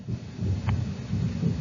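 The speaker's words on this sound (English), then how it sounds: "Whew, getting a thunderstorm." Thunderstorm with a low, rolling rumble of distant thunder running through the whole stretch, loud but muffled and with no voices over it.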